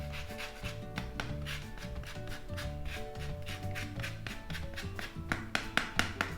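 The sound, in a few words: quickly mixing shortcrust pastry dough with sugar, egg, lemon rind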